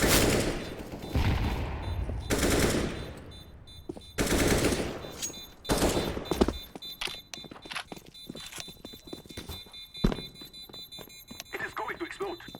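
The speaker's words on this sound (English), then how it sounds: "I'm throwing a grenade." Gunfire rattles in Counter-Strike: Global Offensive, with loud early bursts followed by scattered sharper shots and faint game sounds trailing off.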